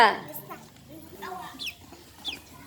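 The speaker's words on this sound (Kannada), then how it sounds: "ಕೋಳಿ ಹೆಂಗನ್ನುತ್ತೆ ಸೌಂಡು" A chicken gives short, scattered clucks at close range amid the background chatter of schoolchildren at a school.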